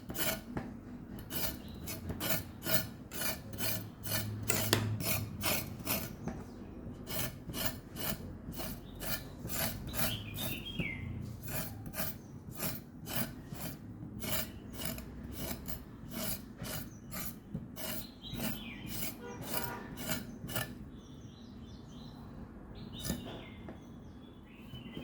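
A home-grown salad vegetable having its skin scraped off in steady, rapid rasping strokes, each scrape crisp and close, repeating rhythmically with brief pauses, with faint bird chirps in the background.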